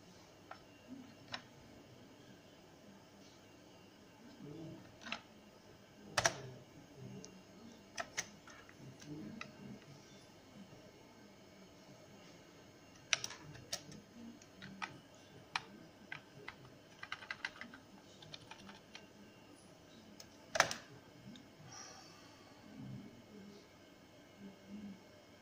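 Computer keyboard typing while DOS config files are written: scattered bursts of keystrokes and single clicks, fairly close and moderately quiet, over a low room hum with no speech.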